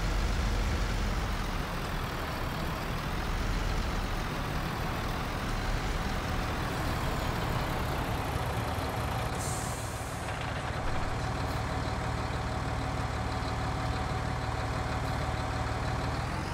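A truck in Farming Simulator 19 rumbles steadily with a continuous engine drone, an air brake hiss partway through, and no voices over it.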